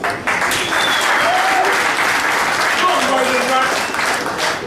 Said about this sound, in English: how about one more nice round of applause for the official Final 9 of the 2010 World Series of Poker Europe main event final table